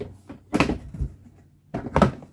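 Latches on a waterproof plastic storage box snap open, two pairs of sharp clicks and clunks about a second and a half apart, close and fairly quiet.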